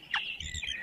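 A small bird gives a quick, bright chirp as it takes off, with a couple of thin trills following close by over a soft low rustle.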